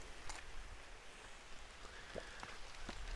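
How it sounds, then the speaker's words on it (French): Steady, heavy rain begins falling on a garden site as a soft, constant hiss, with a few louder drips landing nearby. "Donc, il commence à pleuvoir beaucoup."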